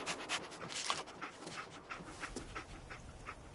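Dogmeat, the dog companion in the game Fallout 4, pants rapidly and softly up close, a rhythmic huffing with a faint whimper, with no talking.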